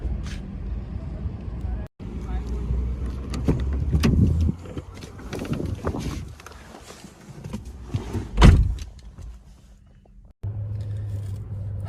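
People climb into a car, with a couple of sharp thuds of doors shutting between stretches of rustling and shifting movement, and voices talking through much of it.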